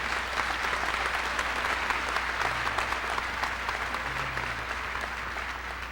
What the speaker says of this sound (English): If we could give them a nice round of applause, please.